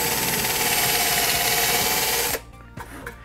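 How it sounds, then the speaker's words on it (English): A power drill bores a 6mm dowel hole into pallet timber, a loud steady whirring grind for about two seconds that cuts off abruptly, followed by quieter clicks and handling. "we need to drill a 6mm hole to match the size of the doweling"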